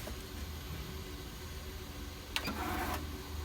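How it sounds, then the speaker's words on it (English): A vinyl plotter feeds out and cuts window tint film, starting as a steady low mechanical hum, then a brief burst of brighter whirring and scraping from the feed near the end, close and moderately quiet. "I hit the plot icon and magically it begins to shoot my window film out of"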